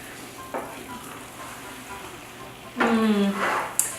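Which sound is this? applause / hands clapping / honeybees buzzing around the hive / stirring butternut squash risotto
stirring butternut squash risotto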